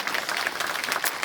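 Audience applause for a conference panel at a driving-safety event, a dense, even wash of many hands clapping at moderate distance with no talking.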